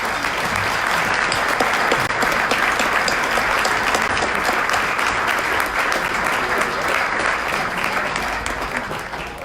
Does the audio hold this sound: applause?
yes